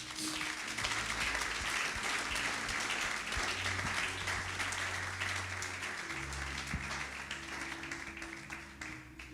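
A church congregation applauds together at a French-speaking service, a dense, steady wash of many hands clapping throughout, loud and close, with low organ or keyboard tones sustained beneath.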